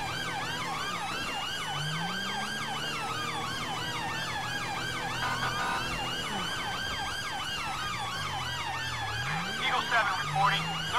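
A police car siren in the GTA V video game, set in London, wails continuously and loudly in rapid rising and falling sweeps throughout, with a lower tone and engine noise beneath it.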